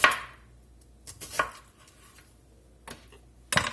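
Knife chopping onion slivers on a cutting board: a sharp first cut, then scattered lighter slices, and another firm chop at the end, close and clear with quiet pauses between.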